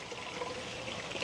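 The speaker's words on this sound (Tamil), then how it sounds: "அதுக்கு வந்து தண்ணி விட போகிறோம்." Water is poured into a pot for boiling palmyra tubers in a village garden, making a short, steady splashing and trickling rush that lasts a little over a second at fairly low volume.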